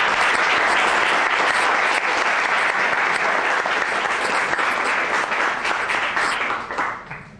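An audience at a constitutional law lecture breaks into loud, dense applause for an introduced speaker. The clapping is sustained and even for around seven seconds, then fades out at the end.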